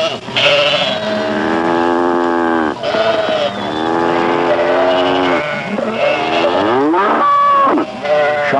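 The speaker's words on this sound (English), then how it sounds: "farmers from miles around bring livestock, sheep and cows and pigs" Cattle moo at a Basque livestock market where sheep and pigs are also traded, long loud lowing calls one after another, close up and continuous with overlapping bleat-like cries.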